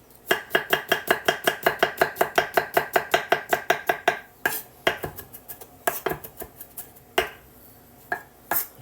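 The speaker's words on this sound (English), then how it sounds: "Now the onion I do want a bit thinner, guiding my blade." A kitchen knife chops onion and garlic on a cutting board for beef stroganoff, starting with a fast, steady run of close, crisp knocks on the board and then slowing into scattered, irregular cuts.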